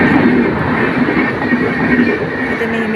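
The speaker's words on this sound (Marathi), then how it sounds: "एकदम 3-4 ट्रेन जात असतात" Train passing a railway level crossing with the gate down, a loud continuous rumble of wheels on rails with faint squealing tones, close by and steady throughout.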